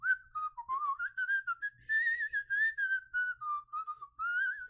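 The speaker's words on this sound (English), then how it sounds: "I can whistle now, but I can only whistle inwards." A clear, wavering whistle made by breathing inward, carried in short phrases with brief breaks, close and fairly airy, with no talking.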